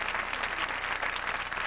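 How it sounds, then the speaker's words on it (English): A studio audience at a TV talk show breaks into steady, dense applause, an even wash of clapping that holds throughout the moment. "Big clap"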